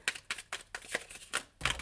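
Tarot cards are shuffled close by in quick riffling bursts, a rapid series of about seven soft papery snaps and flutters, with no talking.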